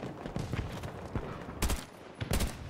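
Bursts of automatic gunfire in the shooter Battlefield 2042, rapid rattling shots in a few loud clusters over steady background battle noise.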